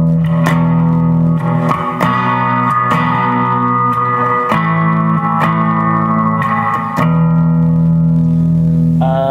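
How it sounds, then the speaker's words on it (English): An electric guitar plays through a Fender Mustang I on its 65 Twin Reverb amp model, loud and close, with a series of picked notes and chord changes ringing with reverb and a slight echo. "switch over to a 65 Twin Reverb."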